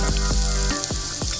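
Crushed garlic sautéing in a pan for pizza sauce, a steady close sizzle with a few stirring scrapes of a utensil across the pan, no talk.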